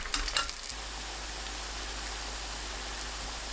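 Round pumpkin cutlets deep-fry in oil with a dense, constant bubbling sizzle that holds even and fairly loud throughout, with a few sharper crackles at the start and no voices.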